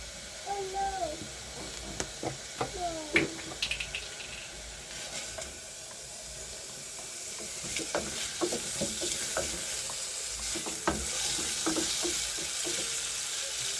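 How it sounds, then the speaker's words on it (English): Rice and potatoes fry in a pan with a steady sizzle, broken by sharp stirring scrapes and clicks that are loudest early on and sparser later. "Do tell me how you guys fry your rice with potatoes."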